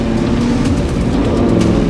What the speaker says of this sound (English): We're just four-wheel drifting everywhere.